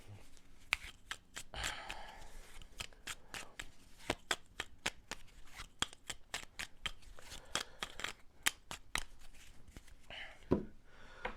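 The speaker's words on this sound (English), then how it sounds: "This gets shuffled." Board game cards from Lost Ruins of Arnak are shuffled by hand in a quiet room, a soft close run of riffling snaps and flicks that keeps going in irregular bursts.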